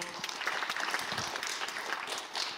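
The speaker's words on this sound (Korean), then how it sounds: "박수로 환영해 주십시오" An audience at a high school admissions information session applauds to welcome a teacher, a steady, fairly soft wash of clapping that fills the moment without pause.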